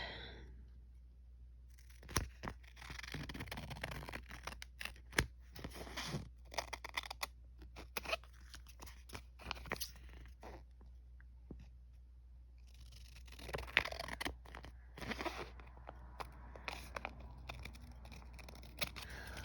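Scissors snip repeatedly through paper during assembly of a Halloween vignette box, with close, crisp cuts in irregular bursts and faint rustling between them.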